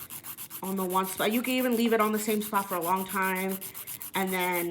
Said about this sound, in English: So basically you're just going to file your nail off.